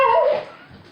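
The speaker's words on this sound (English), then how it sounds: "Sorry, y'all. That's my dog." A dog gives a single short, fairly loud bark that trails into a high whimper, heard close and alone in a home kitchen.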